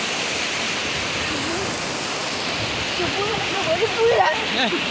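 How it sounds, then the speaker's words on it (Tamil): Steady rushing water of Agasthiyar Falls on the Thamirabarani River at Papanasam, a broad constant roar with faint voices and birdlike chirps drifting through it. "இது தாமிரவரணி ஆறு தான் இது அகஸ்தியர் அருவி"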